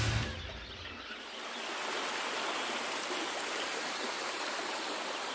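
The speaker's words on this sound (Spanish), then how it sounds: "El río Matarraña da nombre a toda la comarca y corre tierra adentro como si huyese del mar." The Matarraña river flows in a steady, even rush of water, a soft broadband wash that carries on unbroken throughout with no voices.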